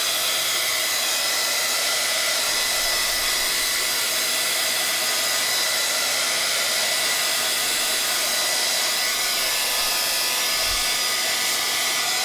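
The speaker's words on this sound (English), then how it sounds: "I'm going to hit it with the heat gun" Heat gun drying thin layers of paint on mixed-media sticker paper, a steady, loud whooshing blower hiss held throughout with no pauses.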